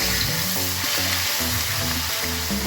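Onions sizzle and fry in hot oil with bay leaf and cumin for a chicken curry, a loud, steady crackle with faint stirring and no voices.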